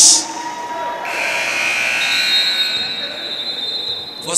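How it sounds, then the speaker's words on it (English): A buzzer at a basketball scrimmage blares as a long, continuous electronic tone lasting several seconds, loud over faint arena background noise. "As the buzzer sounds, Kobo!"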